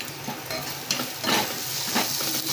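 Ground chilli, coriander and cumin powders being stirred and sautéed in hot oil for a potato and chickpea curry, a steady close sizzle with scraping spoon strokes and a few louder stirring bursts, no voices.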